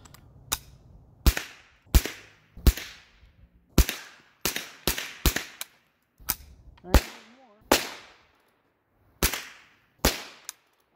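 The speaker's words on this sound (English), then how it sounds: "Savage 22 long rifle with a scope, uh, Barska, Barska scope" A Savage .22 long rifle fitted with a Barska scope fires about fifteen sharp, separate cracks at an outdoor range, each shot loud and near with a short ringing decay, spaced irregularly with brief quiet gaps between.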